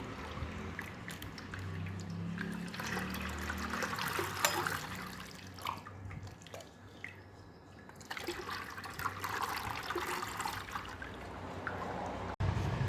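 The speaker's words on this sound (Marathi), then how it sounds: "हा जो चीक आहे तो परत दुसऱ्या वेळेस चाळून घ्यायचा आहे असा गाळून घ्यायचा आहे" Cow colostrum (chik) strained through a sieve, a steady wet trickle and pour running for several seconds, continuous and close, with brief pauses in the flow.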